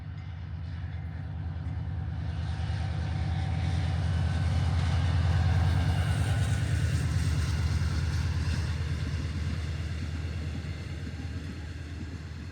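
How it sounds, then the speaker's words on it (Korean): A train rumbles past a roadside walker on a route from Asan to Jochiwon, South Korea, with a steady low clatter of wheels swelling toward the middle and then fading, moderately distant and with no talk. "이번에도 기차가 지나갑니다."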